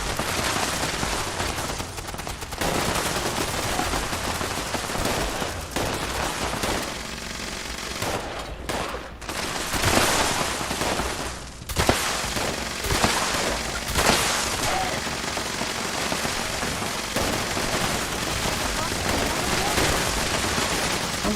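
Gunfire during an event in Fallout 76, sustained bursts of automatic and single shots from several weapons, crackling on and off throughout a long stretch of busy combat noise.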